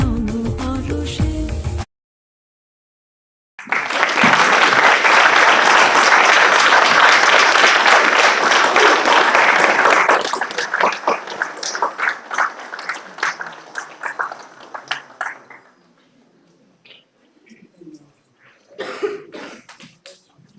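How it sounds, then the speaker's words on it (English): An audience applauding after a song at an evening devotional program, a burst of dense clapping lasting several seconds that thins into scattered claps and fades, following a short stretch of music. "Round of applause for them"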